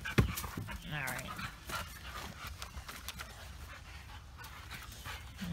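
A Dogo Argentino puppy pants during playtime with another dog, close and fairly loud, with scuffling movement, brief whimpers and a short voice over the steady breathing.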